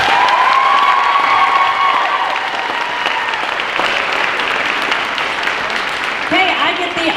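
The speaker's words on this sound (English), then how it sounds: "Everyone give them a round of applause, please." An audience at a school senior recognition event breaks into loud, sustained applause with some cheering and crowd voices mixed in, filling the room evenly from start to finish.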